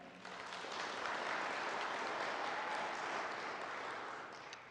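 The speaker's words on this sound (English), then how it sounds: "so big round of applause to Allie Vernon real quick." Audience applause at a counselor gathering, a steady wash of clapping that swells quickly, holds evenly for several seconds, then tapers slightly at the end, fairly soft and distant with no talk over it.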